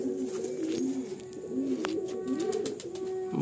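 A pair of pigeons coo up close, several soft, rolling low calls repeating in a gentle rhythm over a quiet background.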